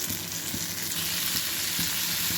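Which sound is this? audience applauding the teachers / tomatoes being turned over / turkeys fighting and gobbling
tomatoes being turned over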